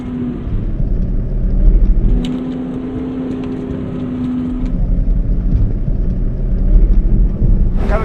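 A SHERP N1200 amphibious off-road vehicle crawls in first gear over rough terrain. Its loud engine drones and revs close by, the pitch rising and falling with load, and short knocks and clatters come through in places.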